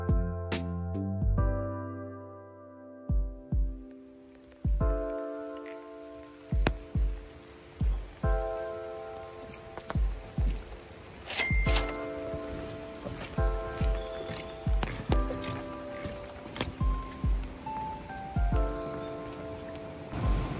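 Rain pattering nearby in irregular drops and taps by a river in a Korean park, with heavier splats scattered throughout and no voices.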